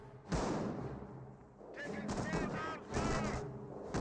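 Rifle volleys in the World War II strategy game Company of Heroes, a cluster of sharp overlapping gunshots and thuds with a few ricochet-like whines, under a commentator's voice.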